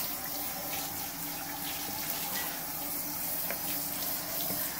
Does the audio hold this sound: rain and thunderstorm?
no